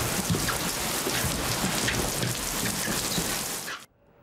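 Steady rain pours down in a dense, even hiss of drops hitting surfaces, close and fairly loud, then cuts off abruptly just before the end.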